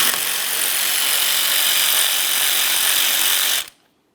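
A power tool whirs loud and steady for several seconds, removing a 13mm-headed mounting bolt from a windshield washer reservoir on a 2007-2017 Jeep Patriot, then cuts off abruptly.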